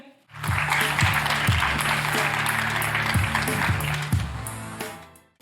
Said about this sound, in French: Alors, merci de l'applaudir.